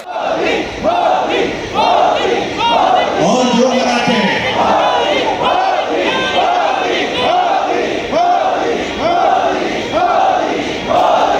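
A crowd at a political rally chants Modi Modi in loud, rhythmic repeated bursts, many voices together at a steady pulse about once a second, with a short spoken line among them.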